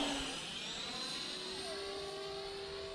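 An E-Flite F-15 Eagle 64mm EDF model jet flying on low throttle, a steady whining ducted-fan drone with a gently shifting pitch, sustained and moderately distant.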